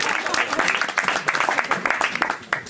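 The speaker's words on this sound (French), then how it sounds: "que je vous demande d'applaudir." Dense applause from an audience fills the whole stretch, a steady wash of many hands clapping with no break, welcoming the arrival of Super Audrey during a speech.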